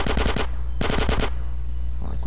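Two bursts of rapid automatic gunfire from GTA San Andreas Definitive Edition, each a tight string of about five loud shots, separated by a brief pause and followed by quieter game ambience.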